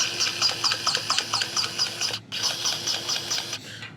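A grease gun works over fittings on old, worn farm equipment, its quick rhythmic squeaking strokes repeating steadily and close, with a short pause before the pumping resumes.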